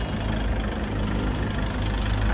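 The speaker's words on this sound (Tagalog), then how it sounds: "Kita nyo yung tunog ng makina, pino pa rin, no?" The diesel engine of a 2012 Toyota Innova 2.5G idles steadily close by, a low continuous rumble with an even pulse and no talking.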